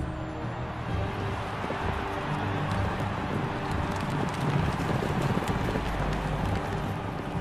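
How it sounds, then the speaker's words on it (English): Chariot horses gallop in a race, a dense, continuous thunder of hooves with rushing noise throughout, loud and steady with no voices. "chariot thunder to victory."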